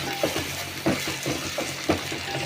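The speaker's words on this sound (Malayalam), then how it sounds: "ഇനി അതിലേക്ക് പച്ചമുളക് ഇടണേ കറിവേപ്പില ഇത് വഴറ്റിയെടുക്കട്ടെ" Green chillies and curry leaves are sautéed in a pan for a rose apple pickle, with soft sizzling under a few sharp spatula scrapes and knocks against the pan at uneven intervals, close by and with no talk.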